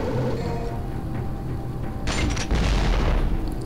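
Grenade blasts in the Devil May Cry action game, a rumbling low boom building into a louder burst of explosive crackle near the end, with no voices.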